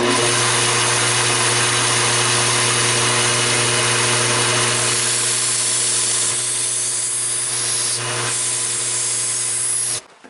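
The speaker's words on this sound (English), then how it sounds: "So let's get back to the grinder." A belt grinder grinds a knife edge in a loud, continuous roaring hiss with a steady motor hum, its tone shifting slightly as the blade is worked, before cutting off at the end.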